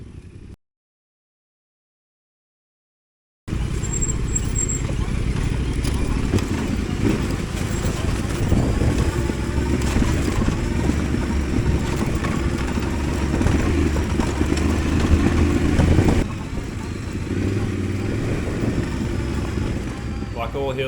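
Two adventure motorcycles, a Yamaha Tenere 700 and a CFmoto 450MT, idle steadily at the top of a big hill with a low continuous engine rumble and wind noise, close by and fairly loud after a brief silence.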